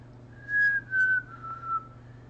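A person whistles a slow, mournful little tune of three held notes, clear and close over a quiet background hum.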